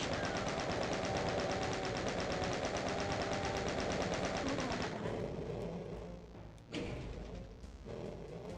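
A Gatling gun in classic Doom fires in a continuous fast rattle for about five seconds, then stops, leaving short bursts and thuds.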